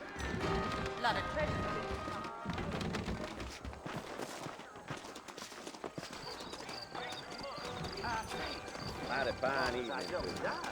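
Hooves clip-clop in a quick galloping rhythm amid busy Red Dead Redemption game sound effects and music, with voices talking over parts of it.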